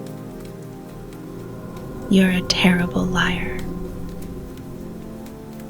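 Soft steady rain falling in a cyberpunk horror city setting, a constant light patter under a whispered voice in the middle.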